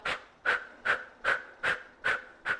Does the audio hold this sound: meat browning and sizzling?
no